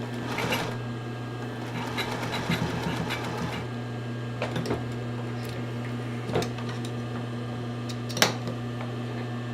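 A sewing machine stitching stretchy sports bra fabric, a steady motor hum with bursts of rapid needle chatter and a few clicks and handling knocks nearby.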